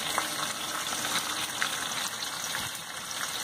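Stuffed pointed gourds (potol) frying in hot oil make a continuous bubbling sizzle with occasional pops, close and even in level, with nobody talking.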